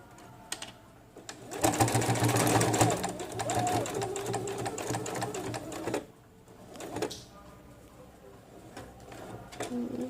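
A home sewing machine stitches the placket of a men's kurta. The motor runs in a loud continuous burst, then carries on more quietly with brief pauses and restarts, and a voice is faintly present.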